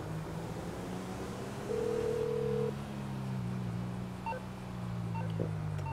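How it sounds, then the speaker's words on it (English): A phone rings in Grand Theft Auto V, a steady electronic ringing tone repeating at moderate volume with a few short beeps, heard alone without talk. "No matter who he calls, the phone just keeps ringing."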